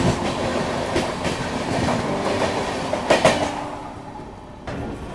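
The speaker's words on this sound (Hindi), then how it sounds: "और ये जो आप ट्रेन देख रहे हो ना, ये है उदयपुर सिटी पाटलिपुत्र हमसफ़र।" Udaipur City–Patliputra Humsafar Express rolls past on Indian rails, a loud continuous rumble with repeated clickety-clack wheel beats that eases off toward the end.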